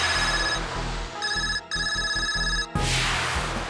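A mobile phone rings with a repeating electronic ringtone, its bright tonal bursts pulsing in a steady pattern with short gaps, moderately loud and with no voices over it.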